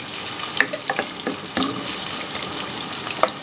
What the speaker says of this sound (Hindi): इसमें मैंने पानी ऐड किया है।